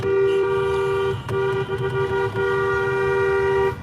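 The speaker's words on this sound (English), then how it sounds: "if they're not, I'm going to honk" A car horn blares in long sustained honks, loud and close, with a brief break and a few short gaps between blasts over low road rumble.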